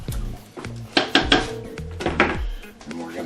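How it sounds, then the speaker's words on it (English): Metal utensil scraping and knocking against the sides of a pot of Cajun gumbo, a few separate clanks and scrapes close up, with a voice talking quietly at the start and end. "you want to make sure you get the stuff off the sides of the pot as best you can to get it all down in there into your soup"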